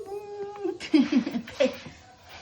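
A pet cat gives a few short, close meows and whiny cries in a quick cluster, with a soft human voice mixed in at the start.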